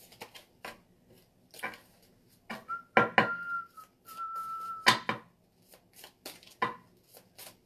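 Tarot cards cleared and shuffled on a table, heard as quick, close riffling and tapping bursts spread across the stretch, with a short whistled tone in the middle and quiet gaps between.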